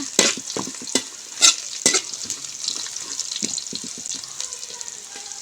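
Onions fry in a pan as they are stirred, with a few sharp clanks and scrapes early on over a steady close sizzle that carries on alone.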